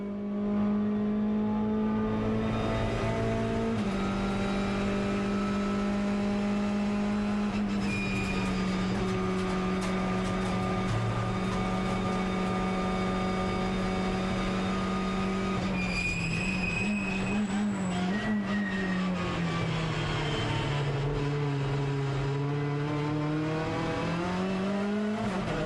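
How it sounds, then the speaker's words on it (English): A Hyundai i30 TCR race car runs on track at Sydney, its engine note rising and falling through gear changes in a sustained, loud, tonal roar with harmonic pitch sweeps over about twenty-six seconds. "Great chance for us to have a listen to this I-30."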